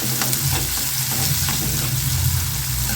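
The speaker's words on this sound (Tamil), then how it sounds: "வெங்காயம் நல்லா வதங்கணும்" Chopped onion sautés in hot oil for cauliflower masala, a steady, close sizzle with the soft scrape of stirring running through the whole stretch, no voices.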